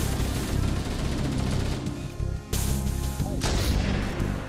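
Gunfire in Halo CE, heavy sniper-rifle-style reports over a constant loud battle din, with a sharp crack near the middle and another toward the end.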